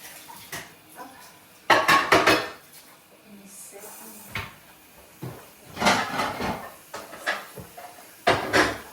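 Dishes are washed while cleaning a rental house. Plates, pots and cutlery clatter and clink in short bursts with quiet pauses between them, close by and without talk.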